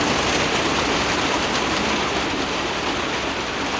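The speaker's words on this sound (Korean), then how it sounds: "비가 막 뿌리친다." Heavy rain pours down outdoors in a dense, loud, unbroken hiss that fills the whole scene, with no voices.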